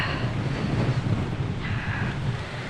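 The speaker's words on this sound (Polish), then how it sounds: "jest taka walka już z wiatrem, że masakra" Heavy, continuous wind buffeting the microphone, a steady low roar with gusty rumble throughout, from riding hard into a strong headwind during a 250 km cycling race in Lubusz, Poland.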